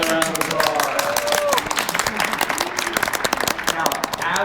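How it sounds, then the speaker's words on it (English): Audience clapping for an honorary Duckmaster presentation at the Peabody: a brief, close round of applause from a small crowd, mixed with voices talking over it. "Let's give her another round of applause."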